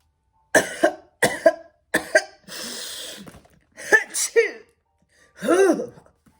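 A voice acts out a string of coughs, wheezes and sniffs in separate bursts, like an imitation of someone coughing and snuffling.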